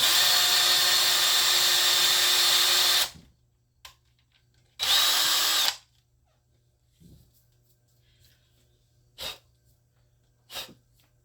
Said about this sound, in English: always be careful when dealing with power tools, because the bits do tend to get hot sometimes